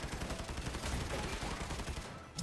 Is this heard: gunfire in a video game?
yes